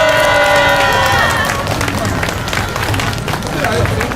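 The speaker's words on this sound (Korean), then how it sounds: "멋진 발달장애인 동지들에게 힘찬 응원과 지지의 박수 보냅시다." A crowd at a rally for people with developmental disabilities applauds loudly and steadily, dense clapping with some cheering that fills the whole stretch after a few seconds of overlapping voices.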